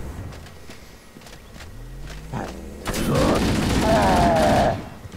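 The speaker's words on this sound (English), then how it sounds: "somebody is shooting me from over there" Gunfire and combat in Halo: Combat Evolved Anniversary: scattered shots and footsteps, then a loud sustained roar of weapon fire and blasts that ends abruptly, with no talking over it.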